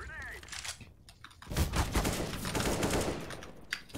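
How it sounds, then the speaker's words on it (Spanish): Bursts of rapid gunfire in a first-person shooter, quieter at first then erupting loud and sustained from mid-clip onward, with a voice talking underneath. "Me están disparando por detrás."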